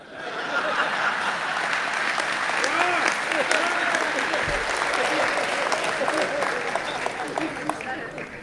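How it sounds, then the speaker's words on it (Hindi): A poetry gathering audience applauds in loud, sustained clapping throughout, with a few chuckles and laughs mixed into the crowd noise. "इतनी देर से तालियां बजवा रहे"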